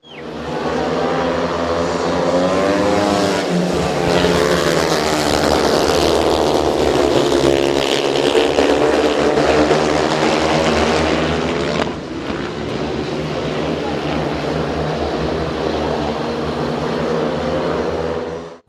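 Loud, continuous engine roar from speedway motorcycles racing on a track during a Ukraine vs Europe test match, rising and falling in pitch as they pass, with a brief dip before the noise resumes.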